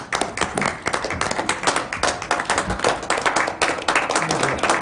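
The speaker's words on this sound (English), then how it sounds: "Stand, give them applause." An audience at a Glasgow City Council meeting applauds, a close, dense round of quick overlapping hand claps that keeps going at full strength throughout.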